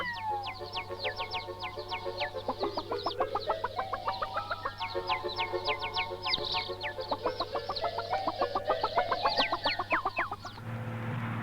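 Young laying hens cluck in a rearing shop at a Soviet-era poultry farm in Tomilino in 1988, dense rhythmic clucking and chatter from many birds over a constant low electrical hum.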